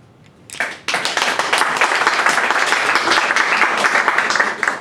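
An audience applauds to vote for the first candidate in a show's elimination round, a dense burst of clapping starting abruptly and sustained at steady loudness throughout.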